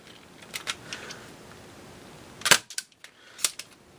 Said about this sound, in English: We'll do a couple of shots with X Shot's own darts out of the stock one to give us a baseline.